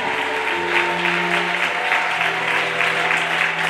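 An audience claps and cheers loudly and steadily throughout, with a sustained musical drone beneath at a worship gathering.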